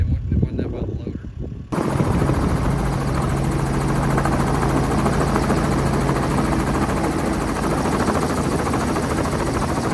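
A helicopter flies over a tactical gun-run course with targets, its rotor drone loud and steady for the full stretch after a brief rougher opening, with a sustained low hum and no distinct shots standing out.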